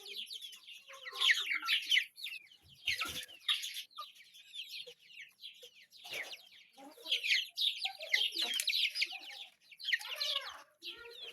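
A brood of chicks and young roosters cluck and cheep in a busy, uneven chorus of short bursts, fairly close and without any talking over them.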